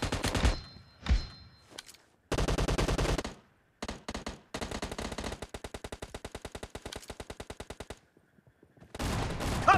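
Automatic gunfire in PUBG Mobile's Gun Game mode: several loud bursts of rapid, evenly spaced shots, the longest a sustained stream of dozens of rounds, separated by short pauses, with no voices over it.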